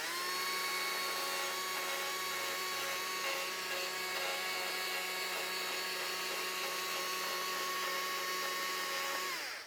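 Chainsaw held at an angle carving a wooden gnome sculpture with its tip, a loud, continuous high-pitched motor whine with strong harmonics, close and steady before cutting off at the end.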